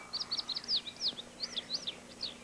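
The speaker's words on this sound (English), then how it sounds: "A bird makes a high sound sitting in a tree." A single bird sings a quick series of high, looping chirps from a tree, clear and fairly close against quiet surroundings.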